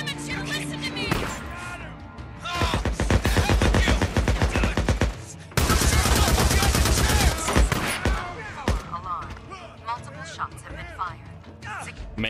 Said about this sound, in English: Many, many shots have been fired right now.